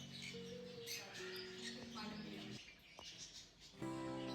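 Ringneck parakeets and other parrots in a London pet store give quiet, distant squawks and tonal chirping calls, several overlapping cries in a row.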